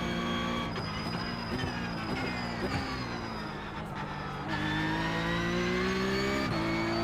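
Porsche Cup race car in the iRacing sim, driven over bumps: a continuous engine drone with shifting pitch, rising and settling through gears, close and steady with a few abrupt changes.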